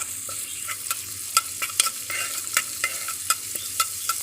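Garlic frying in ghee for Egyptian koshari, a steady close sizzle broken by sharp scraping clicks as it is stirred in the pan.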